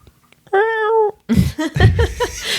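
A person imitates a cat's meow with a drawn-out, tonal vocal mew lasting about half a second, close and loud, followed by laughter and chatter.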